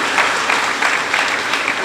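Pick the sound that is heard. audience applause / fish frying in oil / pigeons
audience applause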